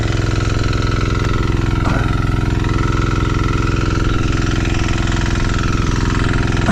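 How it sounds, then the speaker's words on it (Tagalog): A farm machine's engine runs for field irrigation, a steady, loud mechanical drone with a rapid chugging pulse that holds evenly throughout with no voices. "tiramin ulit natin yung makina ni Kuya Jimmy's Peak para yung sa dulo masindihin din, patubigan"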